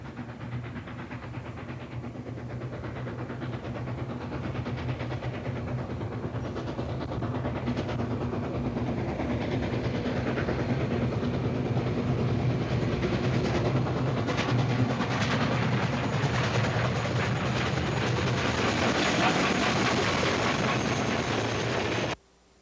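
A Canadian Pacific steam locomotive, No. 2857, hauls a train past in Ontario in 1959, rumbling steadily with a heavy low drone and clattering, building in intensity before cutting off abruptly.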